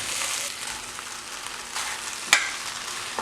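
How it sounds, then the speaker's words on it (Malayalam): Mashed tapioca and dry-roasted beef are mixed together in a pan, giving a soft, continuous scraping and stirring texture with faint sizzle and one sharp utensil knock near the end. "ഇനി ഇതിനകത്തേക്ക് നമ്മൾ വേവിച്ച് വെച്ചിരിക്കുന്ന ബീഫ് വരട്ടിയത് ചേർത്ത് നന്നായിട്ട് മിക്സ് ചെയ്തെടുക്കാം"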